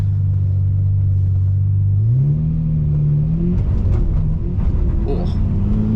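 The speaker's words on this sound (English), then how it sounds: "You can hear the cold tires begging for grip." Lamborghini LP640 accelerating on cold tires: a deep engine drone climbs in pitch as it pulls away, with rumbling road noise and a voice talking over it.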